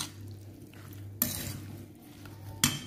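A spoon scrapes and stirs a straw mushroom dish seasoned with mushroom stock in a pan, with soft sizzling and two sharp metallic clinks against the pan's edge.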